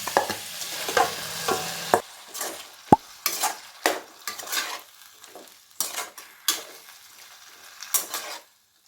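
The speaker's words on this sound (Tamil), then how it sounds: "இந்த ஸ்டேஜில் நம்ம ஊற வச்ச மஷ்ரூமை சேர்த்துடலாம்." A spoon stirs soaked mushrooms into a tomato masala frying in a pan, giving repeated scraping, clinking strokes with a quiet sizzle underneath and one sharp metallic knock partway through.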